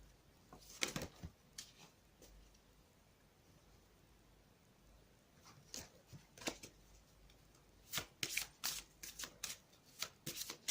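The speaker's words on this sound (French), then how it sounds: "Je mélange." Oracle cards are shuffled in a quiet room with soft, irregular riffles and flutters. The bursts come at the start, fall quiet for a stretch, then return more rapidly near the end.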